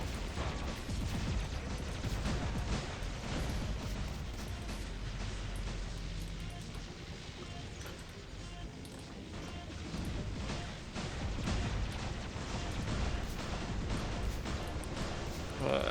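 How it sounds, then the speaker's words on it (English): Heavy cannon fire and explosions in the War Robots mech battle game form a dense, continuous loud barrage of blasts and impacts. "Holy crap, that cannon is quite deadly."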